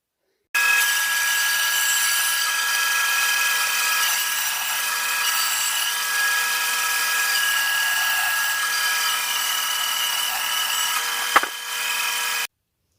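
A bandsaw slices through a heavy green, wet log carried on a sled, a steady close rasping roar lasting about twelve seconds with a sharp knock near the end before the blade winds down.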